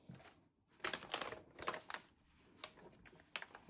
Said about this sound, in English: And I'm just going to cut out of my Trader Joe's bag